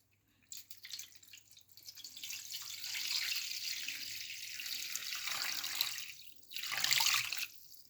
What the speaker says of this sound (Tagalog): Tamang-tama ang tubig na ginawa ko sa gripo.